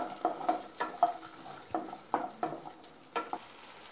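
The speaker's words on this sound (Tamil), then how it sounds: "சின்ன வெங்காயம் போட்டு வதக்கிக்கலாம்." Small shallots sauté in a pan for Erode coriander chutney, quiet repeated scrapes and taps of a spoon stirring over a soft sizzle in an uneven rhythm.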